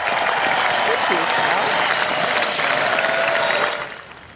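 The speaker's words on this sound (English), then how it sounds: "Big round of applause for that." A studio audience applauds for a guest recording artist in a dense, steady burst of clapping that fades out near the end, with some voices mixed in.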